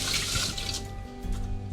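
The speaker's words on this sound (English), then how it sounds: "I'm gonna rinse my hand off" Tap water runs steadily into a sink while a hand is rinsed under it, a continuous close splashing hiss with no talking.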